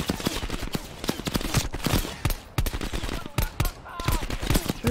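Gunfire rattles in Call of Duty Black Ops Cold War, rapid bursts of close, sharp shots over a continuous battle din, with a few short gaps between volleys.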